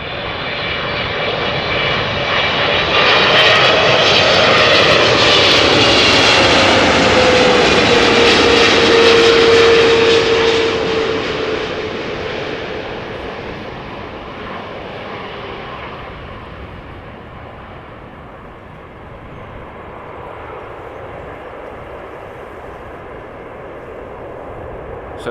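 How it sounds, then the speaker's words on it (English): A Turkish Airlines Boeing 777 freighter jet arrives at Amsterdam Schiphol, its loud engine roar swelling close by with a descending whine, then fading into a steady distant rumble. "So Turkish Airlines flight 6558, a freighter, 777 freighter arriving from Miami, Florida"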